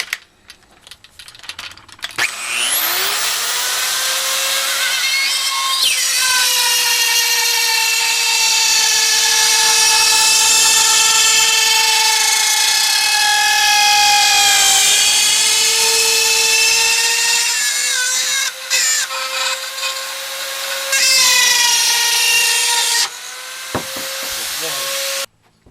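A power tool cuts a rough hole in a small wooden mini pony keg bank, a loud steady high-pitched whine running for about twenty seconds with slight dips in pitch as it bites, then stopping abruptly.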